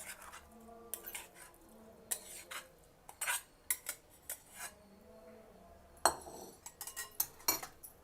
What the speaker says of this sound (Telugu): ఇలా రెడీగా ఉన్న అన్నంలో వేసి కలుపుకుందాము.